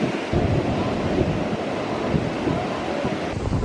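Ocean waves roll and break on a Gulf of Mexico beach on the Texas coast, a continuous close surf roar mixed with wind buffeting the microphone, with no talking.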